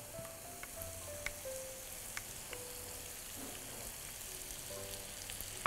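Butter and oil fry in a pan, giving a soft, steady sizzle with faint crackles and pops throughout, heard close and moderately quiet with no talking.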